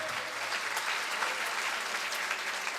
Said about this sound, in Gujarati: ચાલો એક નાની બાળિકાઓ માટે ખૂબ જોરદાર તાળીઓ સાથે